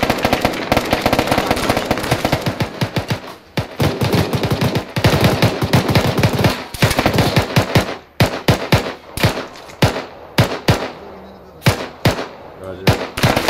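Dense bursts of automatic rifle fire crackle in a military squad training video game, with rapid volleys and single shots trading back and forth almost continuously.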